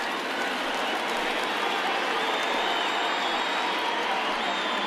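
A stadium crowd of about 24,000 in MLB The Show 2020 rises and cheers at a Twins vs. Tigers game with two strikes in the ninth, a dense, steady roar that stays loud throughout.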